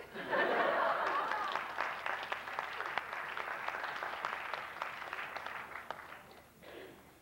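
Audience applause at a live stage show swells loudly at the start and then holds as a dense, steady patter of many hands, tapering toward the end, with scattered laughter mixed in.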